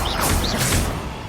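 A Descendo slamming spell in Hogwarts Legacy lands as a loud whooshing crash, with two sweeping surges of noise over a busy, rumbling combat soundscape.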